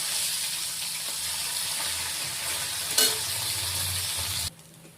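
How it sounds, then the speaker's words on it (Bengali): Parshe fish frying in hot oil, a steady loud sizzle with a brief scrape as the fish is turned over, before the hiss cuts off abruptly near the end. "ঠিক 1 পিঠ ভাজা হয়ে গেছে, এইভাবে আমরা আরেক পিঠ এরকম উল্টে পাল্টে ভেজে নেব।"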